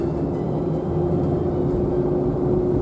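A car sits in slow Los Angeles traffic, giving a steady low engine rumble with a faint constant hum, unbroken and close for a few seconds.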